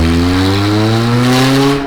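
A 60hp Honda Civic engine with a rattly exhaust howls loud and close while drifting, pitch rising steadily under strain with a buzzing, rasping edge throughout.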